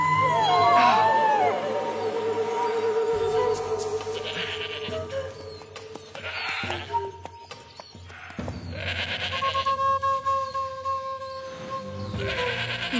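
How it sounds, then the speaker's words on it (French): A cartoon goat bleats in a forest, a loud quavering cry at the start followed by further bleats and animal calls over a busy background of music and effects, with no speech. "Une chèvre dans la forêt? C'est étrange tout de même."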